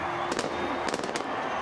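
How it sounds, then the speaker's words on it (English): Fireworks exploding at the Las Vegas Sevens rugby Cup Final between Fiji and New Zealand as the teams run out, several sharp cracking bursts in quick clusters over a loud, continuous stadium crowd roar. "There's going to be explosions and fireworks before the game gets underway as the teams run out."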